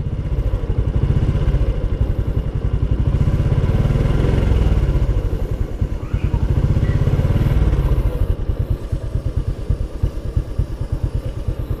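A motorcycle engine idles with a steady, close, chugging pulse, lifting in gentle throttle blips during chain lubrication, a faint mechanical clatter riding along throughout.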